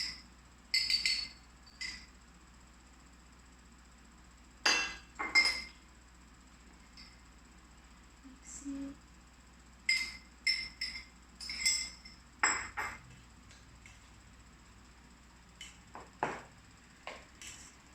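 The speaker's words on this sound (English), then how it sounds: "Stir the rice until the mixture is evenly distributed." Japanese rice and quinoa being stirred in a bowl, heard as sparse, light clinks and taps of a utensil against the bowl in small irregular clusters separated by quiet pauses.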